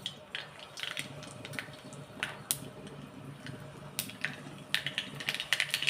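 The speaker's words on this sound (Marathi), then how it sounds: "मोहरी तडतडली" Mustard seeds spluttering in hot oil while tempering for Maharashtrian dahi kadhi, a scatter of faint, irregular pops and crackles that come quicker toward the end.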